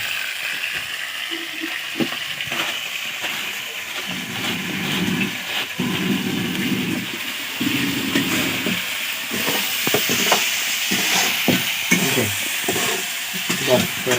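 Chicken curry frying in hot oil in a pan, a constant close sizzle and hiss with repeated scraping and stirring strokes of a spoon, loud and continuous.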